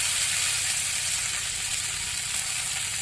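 Spices, green chili and ginger paste sizzle in a pan with chopped onion for a bottle gourd fish curry, a steady bright frying hiss that runs evenly throughout, close and moderately loud, with no voices.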